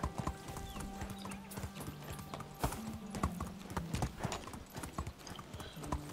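Horse hooves clip-clopping steadily while riding in the Medieval Dynasty video game, a continuous even trotting rhythm alongside soft game music tones, moderately faint throughout.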